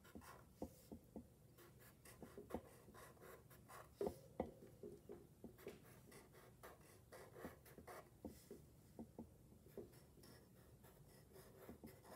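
Pencil drawing on paper at close range: soft, quiet scratching strokes and light taps in an uneven rhythm, with no voices.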